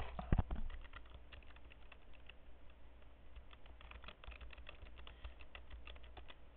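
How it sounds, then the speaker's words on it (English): Steady computer-keyboard typing on a search topic, a fast run of light clicks under a low constant hum, with one louder knock near the start. "I'm going to go ahead and type in my topic."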